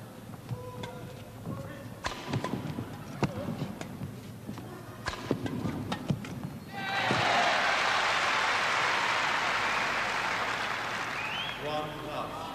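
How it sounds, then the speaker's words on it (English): A big Wembley crowd at the 1984 All England men's doubles badminton final bursts into loud, sustained applause and cheering after a series of sharp shuttle strikes and court noises, with a commentator's voice heard at times. "This big crowd at Wembley now trying to lift the Englishman."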